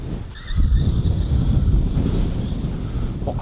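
Strong outdoor wind buffets the microphone in a loud, continuous low rumble, steady throughout with no speech.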